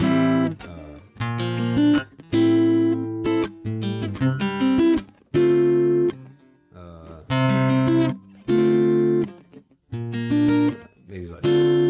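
Acoustic guitar plays the chord progression of a song in bursts of strummed chords separated by short pauses, close and clear.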